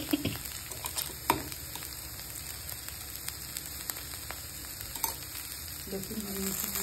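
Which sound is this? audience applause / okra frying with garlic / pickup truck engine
okra frying with garlic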